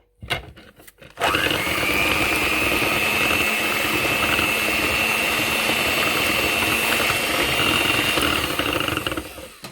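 A chocolate cake batter is mixed by an electric mixer, which starts after a brief clatter and then whirs in a steady, loud drone close by, alone without voices.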